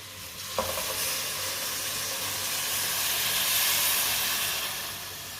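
Milk, 1.5 kg of it, is poured into a cooking pot for a carrot and walnut dish, giving a steady hissing, sizzling wash that swells in the middle and fades, with a soft knock near the start and no talk.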